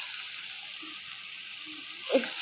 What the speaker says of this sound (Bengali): এখন আমি ডালটা ভালোভাবে ভেজে নেব